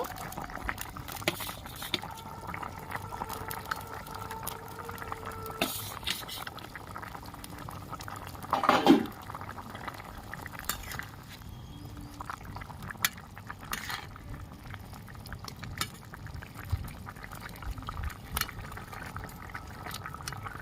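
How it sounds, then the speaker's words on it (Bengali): Rohu fish curry bubbles in a pan, a soft, steady simmering crackle and gentle liquid burbling, faint and continuous, with one brief louder clatter partway through. "ভালো করে ফুটিয়ে নেব"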